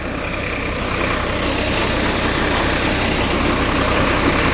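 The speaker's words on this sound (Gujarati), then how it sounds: "અને હલર ચાલુ છે." A tractor-driven thresher for cumin runs steadily, a loud continuous engine drone with dense mechanical rattle and no pauses.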